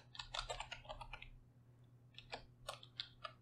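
Typing on a computer keyboard, a burst of rapid key clicks followed by a pause and then several more scattered keystrokes, close and clear over a faint low electrical hum.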